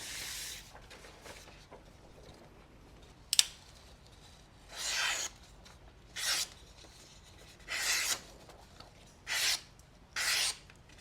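A thin-bladed USA-made slicer knife cuts through paper in a run of short, crisp rasping swipes, six or so separate strokes with quiet pauses between them, close and fairly soft, with no talking.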